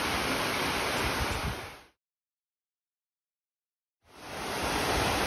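A waterfall in Jordan near a hot spring gives a steady, full rushing roar of falling water that drops to silence for about two seconds before returning just as loud.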